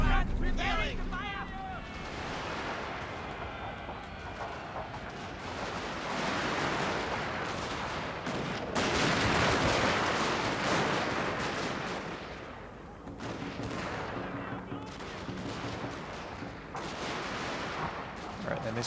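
Artillery and rifle fire in the video game Shogun 2: Fall of the Samurai, as repeated booming cannon shots and crackling volleys roll over continuous battle noise, with voices shouting commands.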